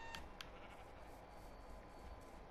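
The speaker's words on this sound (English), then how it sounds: "Oh, there's a sheep there." A sheep bleats faintly in the Minecraft game, short soft calls heard over a low, steady background hiss with a couple of small clicks.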